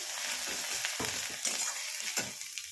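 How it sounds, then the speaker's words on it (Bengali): Onions fry in a pan with a soft continuous sizzle, broken by several scraping stirs at uneven intervals. "পেঁয়াজটা ভালো করে ভেজে নেবো"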